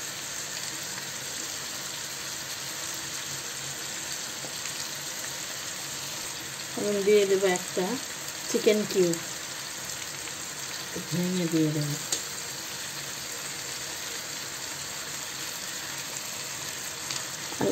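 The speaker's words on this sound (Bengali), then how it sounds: "এটাকে আমি ভালোভাবে ভেজে নেব" Chicken pieces frying in a pan for a chicken kabsa biryani, a constant close sizzle and hiss throughout, with someone speaking briefly over it in the middle.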